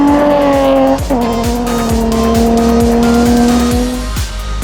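Nissan 200SX rally car driven hard through forest on a classic rally, its engine loud and close in one long sustained high rev with a gear change early on and tyre noise beneath.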